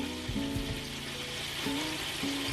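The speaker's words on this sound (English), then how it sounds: "as it's frying, I can see the flour didn't really adhere" Continuous crackling sizzle of flour-coated chicken frying in hot oil, steady and close, with no voices.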